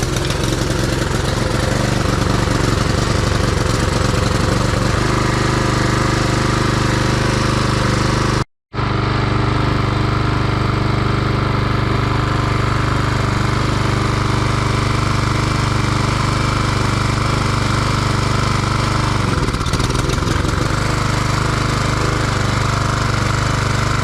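Husqvarna push lawn mower with a small engine running lean and surging, a loud steady drone close by that cuts out for a moment midway and then runs on.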